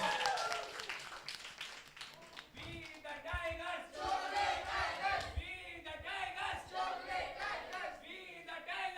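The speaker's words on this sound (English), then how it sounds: "A round of applause to them." A crowd at a college quiz event breaks into a round of applause mixed with cheering and whoops, loud and sustained throughout.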